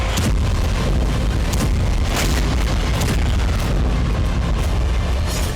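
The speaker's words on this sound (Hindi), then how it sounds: "यूक्रेन में एक बार फिर इस्कंदर M मिसाइलों से प्रहार किया गया।" Iskander-M missile strikes on Chernihiv, Ukraine, as a continuous roar of heavy blasts and rumbling booms, loud and dense throughout with several sharper bursts standing out and no talking.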